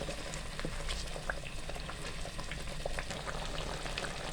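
Chicken karahi with yogurt sizzling and frying hard in a pan over a high flame, a steady close crackle with scattered pops throughout and no voices.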